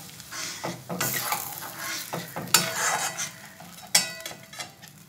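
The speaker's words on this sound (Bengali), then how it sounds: "নেড়ে দিচ্ছি।" Potol korma masala mixed with milk is stirred in a pan, with a gentle sizzle under several scraping strokes and a couple of sharper knocks of the spoon against the pan, close and clear, with no talking.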